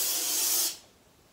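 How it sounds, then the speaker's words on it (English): Lysol disinfectant aerosol sprays in one steady, loud hissing burst of about 0.7 seconds, then cuts off, leaving quiet room tone with no talking. "Spray some Lysol, a good kind of disinfectant spray."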